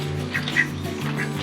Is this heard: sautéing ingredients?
no